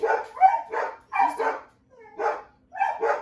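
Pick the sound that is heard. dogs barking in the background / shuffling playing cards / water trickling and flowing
dogs barking in the background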